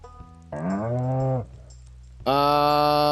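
Brown cow in the farming video game Stardew Valley lowing twice, a shorter moo followed by a longer, louder one, both close and clear with no talk over them.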